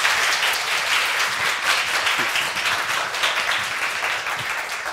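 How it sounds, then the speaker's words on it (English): Sustained applause from a lecture-hall audience welcoming a speaker at a Korea University teaching talk, steady dense clapping throughout with no talk over it. "Please welcome him with a big round of applause."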